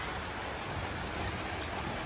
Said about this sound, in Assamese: চাওক এতিয়া বৰষুণ পৰিছে